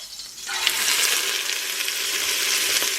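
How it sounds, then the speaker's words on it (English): Meat browning in a pot for Argentine locro gives a steady, close hiss of frying that starts suddenly after a brief pause and holds loud and even, with a few small clinks of stirring. "And they're sizzling. You hear the sizzle?"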